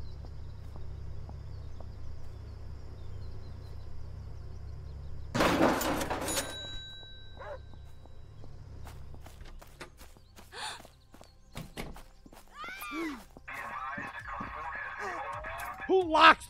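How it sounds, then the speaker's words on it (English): In the Thief Simulator 2 video game, a crowbar smacks against a door with one loud, sharp metallic bang and a ringing tail, set among quieter footsteps and game noises, with someone talking over parts of it. "how loud is this when I fucking smack it with a crowbar?"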